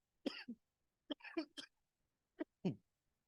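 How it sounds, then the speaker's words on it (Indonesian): A series of short, dry coughs in uneven bursts during an Islamic religious lecture, close to the microphone, with pauses of quiet between them. "Iklan batuk sebentar"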